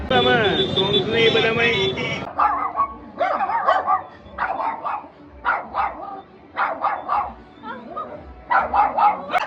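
A dog in a village yard bursts into repeated sharp, angry barks in uneven clusters after an opening stretch of high whining yelps, loud and close by.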